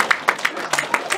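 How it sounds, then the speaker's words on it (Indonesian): Brief applause for junior participants at a training seminar, a handful of distinct claps in loose rhythm over about a second, moderately close with slight room echo. "Tepuk tangan untuk yang junior"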